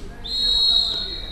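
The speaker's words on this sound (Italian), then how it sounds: "fischio arbitrale" A referee's whistle during a futsal match gives one sustained, shrill blast lasting most of a second, heard over a low murmur of crowd and court noise.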